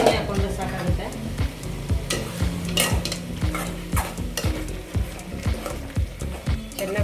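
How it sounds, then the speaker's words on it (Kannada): Ginger garlic paste frying in a pan for chicken kurma is stirred with a metal spatula, which gives a steady, rhythmic run of scraping clinks against the pan over a soft sizzle. "ಚೆನ್ನಾಗಿ ಫ್ರೈ ಮಾಡ್ಕೋಬೇಕು"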